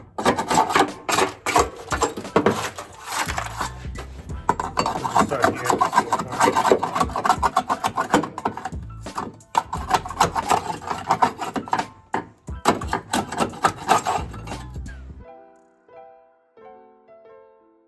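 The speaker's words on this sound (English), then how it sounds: "I can scrape everything and still take out that seat and scrape everything everywhere" Sound deadening is scraped off the metal floor of a Toyota AE86 during restoration, producing loud, repeated rasping strokes in dense bursts with short breaks, ending with a few faint clinks; a voice speaks briefly.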